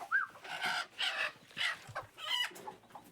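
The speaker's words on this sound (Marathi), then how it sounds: "इथे बाकीचे अंडे कोंबडीवर बसले. अंड्यावर कोंबडी बसलेली." A hen sitting on a clutch of eggs clucks repeatedly in short, throaty bursts, close and fairly quiet, in a rhythmic series with brief pauses between calls.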